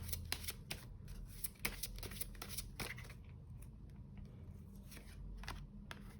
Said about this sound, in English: Let's just shuffle it one more time